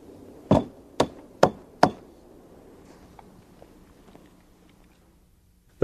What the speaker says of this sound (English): and a little cleanup with the chisel